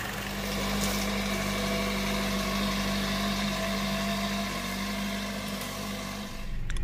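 A Chevy Cruze 1.4 engine idles steadily at close range, a constant low hum with a faint mechanical drone that holds even for the whole stretch, with no speech.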